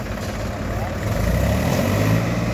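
A Mahindra tractor engine idles with a low, steady rumble just after it starts. The sound is close and continuous, with people talking over it.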